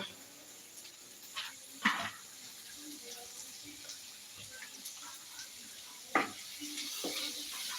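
Masala fries in a pan for chicken kondattam with a soft, steady sizzle, broken by a few faint clinks and stirring scrapes.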